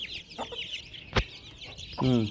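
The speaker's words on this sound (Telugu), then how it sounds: "ఇదొక కోడి, దీనికేమో 17 పిల్లలు ఉన్నాయి." A desi hen with seventeen chicks clucks nearby in short bursts, ending in a louder run of rapid clucks, with a sharp knock midway and faint chirping behind.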